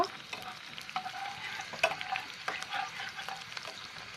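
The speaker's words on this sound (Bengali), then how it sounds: "এখন এটাকে আমি নেড়ে একটু ভাজা করে নিব।" Garlic and four bay leaves frying in oil for khichdi, a soft steady sizzle broken by brisk scraping stirs of a spatula in the pan, close and fairly quiet with no voices.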